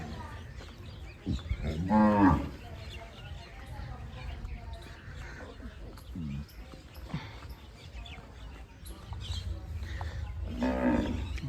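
Cows at a village cattle shed lowing, with a couple of loud moos standing out near and clear over ongoing low chatter and murmuring voices.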